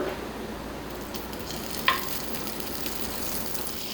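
Oil and a spoonful of butter heating together in a pan for paneer butter masala give a soft, steady sizzle and hiss, with one small clink partway through.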